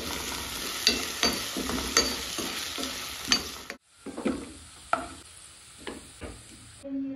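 Salted, turmeric-seasoned food frying in a pan is stirred with soft scraping strokes at an irregular rhythm over a steady close sizzle, with a brief cut partway through.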